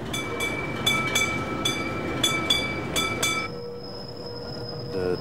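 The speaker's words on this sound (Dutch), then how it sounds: "Hier rijdt de tram in eigen bedding." A tram runs along its own dedicated track between Brussels and Tervuren, rumbling steadily with several sharp rail clicks over the joints, then a high sustained wheel squeal as it passes close by, with no talking.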